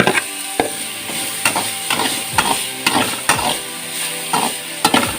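Green chilies and ginger fry in a hot pan for Masala Kadubu, a steady close sizzle broken by repeated scraping clanks of a spoon stirring against the metal, about once per second.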